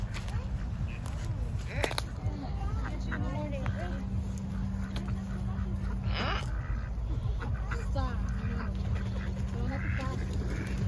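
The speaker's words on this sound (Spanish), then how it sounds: "venimos aquí porque hay muchos patos" Many ducks quacking in a busy outdoor group, with their calls scattered throughout under steady background noise and people talking.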